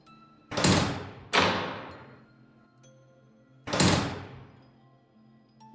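Door sound effects in the Momo mother bird horror video game: three loud heavy thuds, two close together near the start and a third a few seconds later, each decaying with reverb, and no talk.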